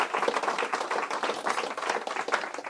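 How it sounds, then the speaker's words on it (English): An audience at an escape artist's live show applauds the volunteers with a dense, continuous burst of clapping that fills the whole stretch at moderate volume. "Let's have a big round of applause for Jesse and for John."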